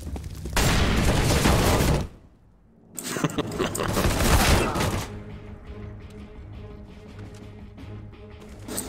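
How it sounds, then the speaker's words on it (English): AK rifle fire in the video game CS:GO: dense bursts of loud rapid shots in two blasts separated by a short gap, then quieter scattered shots and game sounds. "These AKs are way overpowered"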